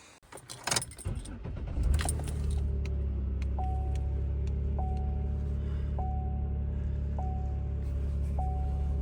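An old car's engine cranks with clatter and a jangle of keys, catches after about two seconds, then settles into a steady, loud idle with a periodic chime sounding repeatedly.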